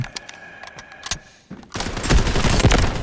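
Gunfire in the shooter game Delta Force: a run of separate sharp shots, then a dense, loud burst of rapid automatic fire with explosive crackle filling the last half.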